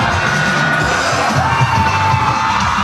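Children in an audience cheer and shout excitedly as a b-boy breakdance stage begins, a loud, sustained crowd roar with high yells and a steady din.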